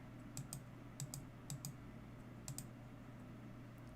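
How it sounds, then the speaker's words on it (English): Computer keyboard and mouse clicking in short clustered bursts of crisp taps, roughly every half second, over a steady low hum; no talking. "A whole lot of clicking going on."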